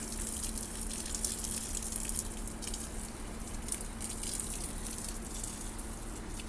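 Water gushing and spattering onto garden plants during watering at a home garden, a steady hissing splash that stays even and close throughout, no voices.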